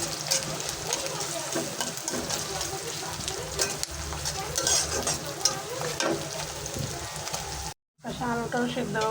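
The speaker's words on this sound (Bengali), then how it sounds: "এই জন্য এখানে যে পেঁয়াজ, রসুন আর শুকনো মরিচ দিয়ে বাগার দিব। দিয়ে দিলাম কিছু।" Onion, garlic and dry chilies crackle in hot oil for a tempering, a steady dense sizzle with stirring scrapes throughout, cut by a brief silent gap near the end before the frying resumes.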